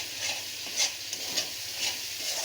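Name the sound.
frying and stirring spices with chili powder in a pan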